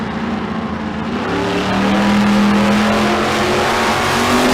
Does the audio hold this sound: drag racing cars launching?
yes